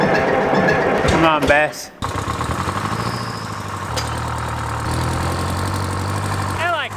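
Old tractor engine cranking over and catching, then settling into a loud, rough, steady idle with knocking vibration, while a person speaks briefly near the start.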